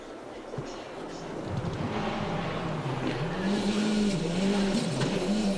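WRC rally cars racing through muddy stages at the 2006 Rally of Turkey, with a steady engine roar rising and falling as the cars pass, fairly loud and continuous.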